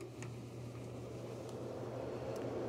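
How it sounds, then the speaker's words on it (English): A Black and Decker portable clothes dryer runs with a steady, low motor-and-fan hum that holds constant throughout, faint and close, with no talking. "Sounds like a regular dryer."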